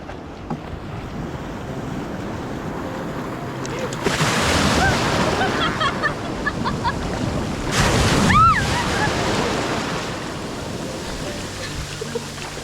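Waves wash and surge near the shore at Devbagh, Malvan, amid gusty wind, with a couple of louder swells and faint background voices.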